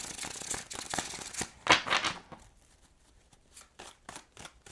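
A deck of tarot cards is shuffled by hand, a flurry of rapid riffling and flicking that builds into a dense burst, then thins to a few sparse snaps and taps.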